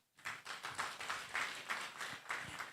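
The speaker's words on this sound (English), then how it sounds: "please do not get tired of clapping" Audience clapping at a victory party, a faint, fairly quick series of about a dozen claps in a steady rhythm, with no talk over it.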